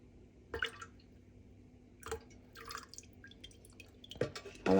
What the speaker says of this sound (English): I have taken it off the heat, adding the fragrance oil.